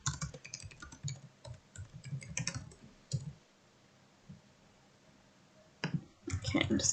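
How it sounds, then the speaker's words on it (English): Close, light keystrokes on a computer keyboard come in quick bursts, pause briefly for a few seconds, then resume with a fresh flurry of typing. "I'm going to type in the name that I would like to use here."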